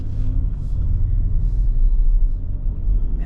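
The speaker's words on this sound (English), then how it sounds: "I love how smooth this V6 is." A 2026 Infiniti QX80 V6 idling from inside the cabin, a steady low smooth rumble with a soft airy hiss on top.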